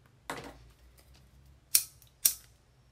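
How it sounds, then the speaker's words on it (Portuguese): Scissors snipping the ends of a ribbon bow for a back-to-school kit, one soft cut followed by two sharp, crisp snips, close and alone in a quiet room. "Dá um cortezinho aqui na ponta"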